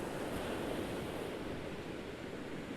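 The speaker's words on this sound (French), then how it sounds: "J'espère que le bruit des vagues vous aura bercé" Ocean waves washing steadily onto a shore, a continuous broadband surge and hiss with a light wind edge, filling the whole stretch without talk.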